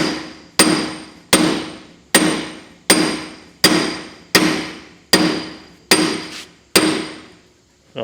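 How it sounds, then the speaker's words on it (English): Eight sharp metallic hammer blows strike a 1-inch brass punch against the king pin of a Massey Ferguson 20 tractor, falling at a steady rhythm about once a second, each ringing briefly before the next. "I'm going to try and just hammer that down in the loosest place that it can be"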